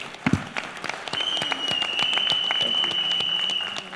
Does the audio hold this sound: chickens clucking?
no